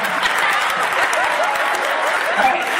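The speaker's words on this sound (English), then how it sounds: "Let's give a round of applause for that." An audience claps in a lively round of applause at a barbershop comedy show, dense and close, with chatter and a voice audible among the claps.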